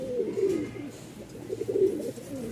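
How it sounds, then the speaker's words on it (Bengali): A male white Lakka pigeon coos repeatedly in breeding display, a low rolling call swelling in two bursts, close and fairly loud with no talk over it. "ওই যে ডাকতেছে একদম ফুললি ব্রিডিং মোডে আছে, পাগলা ডাক।"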